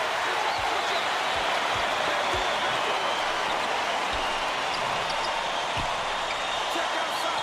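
Arena crowd noise in College Basketball 2K8, a dense, steady roar of cheering that fills the whole stretch without breaks, with faint dull thumps of a bouncing ball underneath.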